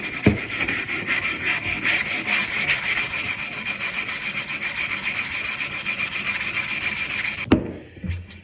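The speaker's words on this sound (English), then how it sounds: "We just have to finish sanding it and finishing it." Steady back-and-forth sanding on a wooden pickaxe handle, a continuous rhythmic scratchy rubbing with regular strokes, close and fairly loud, ending with a couple of knocks as the work stops.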